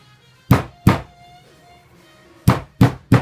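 A hammer lightly tapping a cane spline into the groove of a parlour-style chair seat, five sharp, solid wooden knocks in two clusters, two and then three, close up, with quiet pauses between.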